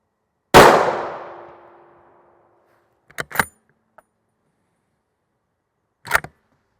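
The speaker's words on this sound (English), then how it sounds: "Shots number 3 will be the lower part of the plate" Rifle shots strike an NIJ Level IV armor plate outdoors: one loud sharp crack with a long ringing metallic decay, then a quick pair of impacts about three seconds later and a final pair near the end, with silence between.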